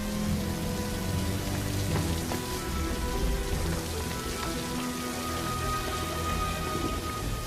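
Steady rain falls on a surface, a dense even patter with scattered drops, continuous and moderately loud throughout.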